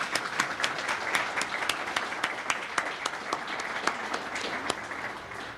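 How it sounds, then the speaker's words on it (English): A crowd at a chamber of commerce leadership awards luncheon gives a round of applause; sustained, even clapping with sharp individual claps standing out runs throughout at a steady level. "Let's give them a round of applause."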